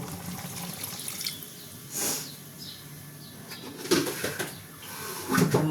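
Water splashes and trickles into a pot of oil-free biulir (urad) dal as it cooks, in short pouring bursts against a faint kitchen background.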